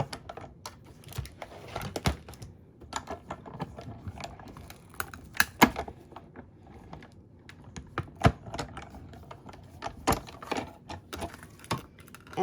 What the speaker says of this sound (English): this cut and emboss machine is going to be coming up and down